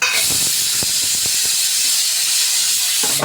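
Food frying in a pan while making leg soup, with dry grated coconut among the ingredients, giving a steady loud hiss of steam and sizzle with a few sharper crackles near the start.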